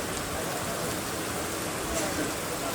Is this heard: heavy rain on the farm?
yes